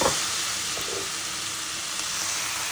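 Soy sauce sizzling hard in a hot frying pan with chicken and broccoli for a Chinese-style dish, a loud steady hiss and crackle held throughout, with no talk.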